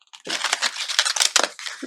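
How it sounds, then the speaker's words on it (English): Oracle cards riffled from the side and allowed to drop, giving a dense run of papery flicking and slapping close by, steady for nearly two seconds with no voices. "shuffle them from the side and just kind of let them fall."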